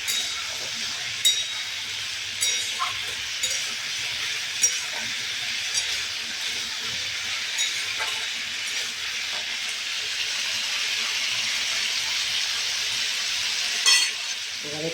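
Jackfruit seeds sauté in a pan with a continuous loud sizzle and hiss, broken at intervals by the scrape and clink of stirring.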